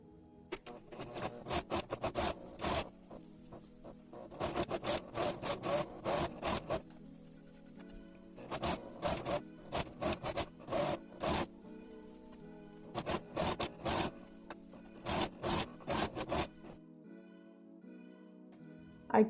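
A sewing machine runs a straight seam to hold bias binding on a round neckline, heard as repeated short bursts of fast mechanical stitching separated by brief pauses.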